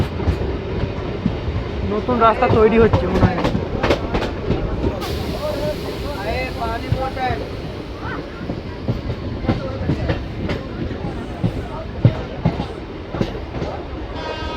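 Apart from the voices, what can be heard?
Rampurhat–Jasidih MEMU passenger train running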